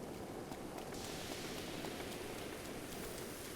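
Steady, broad hiss of rain falling in the video game Breath of the Wild, an even unbroken wash lasting throughout at low level with no voices over it.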